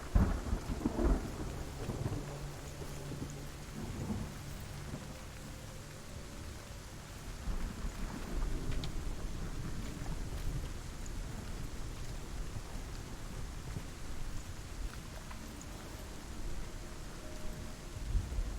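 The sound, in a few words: thunderstorm with rain in the video game Hellblade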